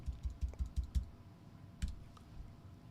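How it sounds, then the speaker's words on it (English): A burst of quick computer keyboard keystrokes, about seven close clicks in a rapid run, then a pause and a couple of isolated taps in a quiet room. "So we'll just type in cooking course."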